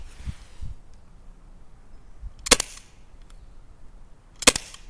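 Two sharp airsoft pistol shots from a Glock 19 ring out at about 2.5 and 4.5 seconds, each a crisp snap standing alone against a quiet background with faint low thumps near the start.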